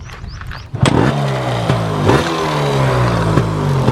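A Yamaha RX two-stroke motorcycle engine starts with a brief cranking burst, then runs close by with a steady buzzing idle punctuated by a few sharp throttle blips.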